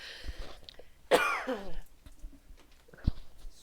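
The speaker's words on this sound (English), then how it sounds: "I'm having a coughing moment." A single sharp, harsh cough bursts out close up, followed by a smaller throat-clearing sound in an otherwise quiet room.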